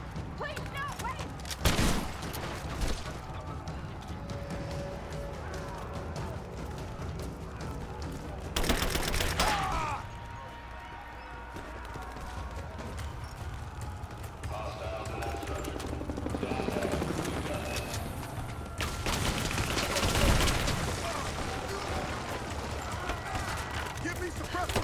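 Gunfire in Rise of the Tomb Raider during a firefight at the edge of a village, with loud bursts of shots and rattling volleys over a rumbling background and voices calling out.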